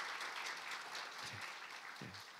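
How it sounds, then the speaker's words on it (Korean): A church congregation applauds at a Sunday service with steady, even clapping across the room for the whole stretch, quiet and distant, with a couple of low thumps underneath. "그냥 박수만 한 번 치려는데"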